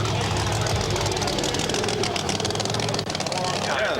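A supercharged big block Ford 429-based engine in a T-Bird idles loudly and steadily up close, with a rough, lumpy rhythm, while people talk nearby.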